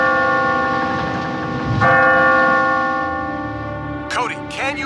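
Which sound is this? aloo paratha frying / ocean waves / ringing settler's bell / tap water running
ringing settler's bell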